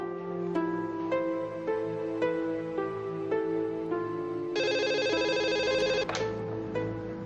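A telephone ringing with repeated electronic tones in a steady pattern, then a rapid trilling ring, loud and close.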